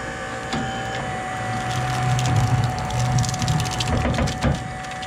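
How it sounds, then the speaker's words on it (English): A hydraulic cylinder tensions a pulling clamp to drag copper winding out of an electric motor stator on a recycling machine, producing creaking, cracking and grinding with a low strained groan, close and moderately loud. "This is the pulling clamp. As this hydraulic cylinder tensions,"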